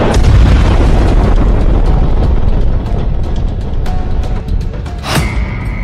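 Israeli air force bombing strikes on targets in southern Lebanon: a loud, continuous rumbling roar of explosions that eases slightly midway, then a sharp blast near the end.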